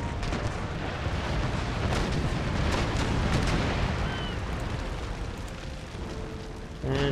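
A rocket ship fires in the naval battle game Empire: Total War, giving a long, loud, rumbling barrage of booming blasts and crackles that swells and then eases slightly, ending with a sharp burst.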